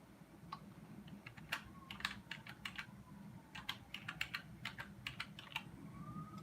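Quick, irregular taps on a computer keyboard clatter in short bursts over a faint background hum, recorded quietly and close.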